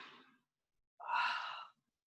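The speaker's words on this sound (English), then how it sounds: "Nice, long, strong, audible breaths here." Long, strong audible breaths during a yoga exercise: a soft exhale fading out, a pause of silence, then a fuller, louder breath lasting under a second, close and alone.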